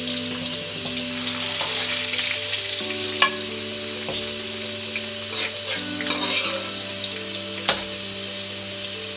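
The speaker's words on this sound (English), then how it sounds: "and then fry for a few minutes" Spices and onions fry steadily in a pan for goat yakhni pulao, a continuous close sizzle with a few sharp clinks of stirring and a low steady hum underneath, no voices.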